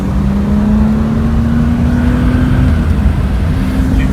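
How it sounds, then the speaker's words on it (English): A 1977 Porsche 911S Targa with its 2.7-liter engine pulls hard in second gear, a steady loud drone rising slowly in pitch as it accelerates, with no talk over it. "let me drop into second and then continue the road test"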